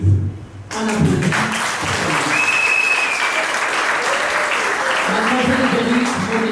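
A short burst of talk gives way to steady applause from guests at a civil wedding ceremony, dense and continuous at close range, with voices murmuring beneath the clapping.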